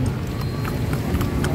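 Horse hooves clip-clop at a steady trot as a horse pulls a kalesa carriage through the streets of Manila, close and fairly loud, with people chatting over the hoofbeats.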